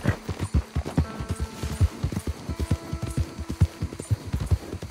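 A horse in the Red Dead Redemption 2 video game gallops with quick, rhythmic hoofbeats, clear and close, drumming steadily over a low ambient hum.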